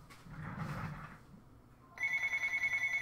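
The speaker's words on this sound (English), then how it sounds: "And my phone is, of course, ringing" A phone rings during a home live stream: after a short muffled noise, a loud electronic ringtone starts and pulses in a steady rapid warble, close by and with no talking.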